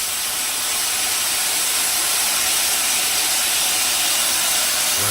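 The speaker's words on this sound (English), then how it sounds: "so the steam coming off those" Steady broadband hiss of steam rising from potatoes cooking on a Blackstone griddle outdoors in the UK, continuous and fairly loud throughout with no talking.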